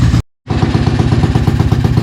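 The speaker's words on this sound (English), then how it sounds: "just let it run for a little bit, give it a couple revs" A Tao Tao 250 YFZ ATV fitted with a new engine runs loud and close, with a rapid, pulsing mechanical chug that briefly cuts to silence before resuming steadily.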